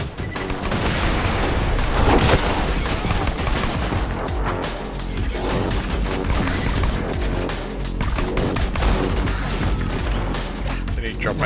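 Dense gunfire from the shooter game Borderlands 2, with rapid bursts, booms and crashing impacts filling the whole stretch loudly while a player talks excitedly over the combat.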